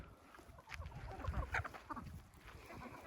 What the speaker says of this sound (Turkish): Bakın şu an yiyorlar.